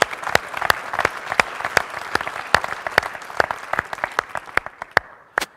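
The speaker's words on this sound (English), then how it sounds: "So let's start with an applause to be grateful that we are here." Audience applause at a university lecture, with many hands clapping steadily and densely throughout, loud and close, with sharp individual claps standing out and no talk over it.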